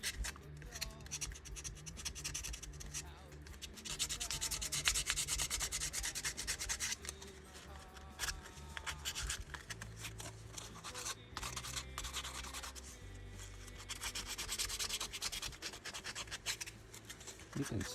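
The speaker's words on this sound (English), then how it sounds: "You can sand it all the way down." Steady rubbing of 220 grit sandpaper over a hand-carved wooden comfort bird, a continuous close scratchy hiss that runs without a break.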